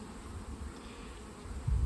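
A dense, steady drone of many honeybees buzzing close by at a hive with laying workers, swelling louder near the end.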